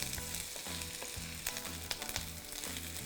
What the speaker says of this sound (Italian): In una casseruola con l'olio caldo faccio stufare le cipolle.